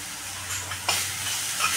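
Turmeric and asafoetida masala sautéing in a pan for kadhi, a soft steady sizzle with a brief louder stir or scrape partway through, close and short, with no talking.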